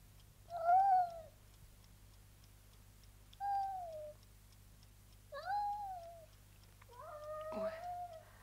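A hungry house cat meows four times at a few seconds' spacing, each cry clear and fairly close against a quiet indoor hum, the last one longer and slightly strained.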